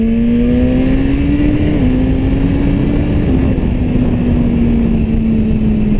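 A 2017 BMW S1000RR sport bike engine revs hard under acceleration, its tone climbing and dropping through a quick gear shift, loud and close with a continuous buzzing whine and no talk.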